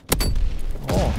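In a Call of Duty match, a grenade is thrown and goes off with a sharp, close thump followed by a rumbling burst and debris, all over within about a second.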